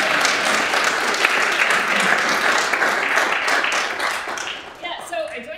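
Sustained audience applause at a university music conservatory jazz recital, dense steady clapping filling the room before tapering off near the end.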